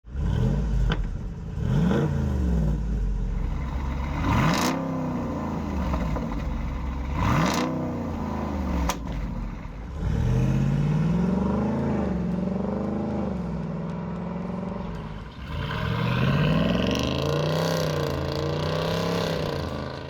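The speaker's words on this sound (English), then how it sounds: "The MRT Street Race H pipe provides a deeper performance sound." A Jeep Wrangler Rubicon 392 fitted with an MRT Street Race H pipe exhaust, with the stock resonator and X pipe deleted, gives several sharp, deep revs, then longer sustained climbs in engine pitch, loud and close.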